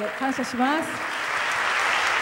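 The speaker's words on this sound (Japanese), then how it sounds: "拍手しましょう、choir" An Easter service congregation in church applauds the choir, a brief spoken phrase giving way to a sustained, even burst of clapping that fills the rest.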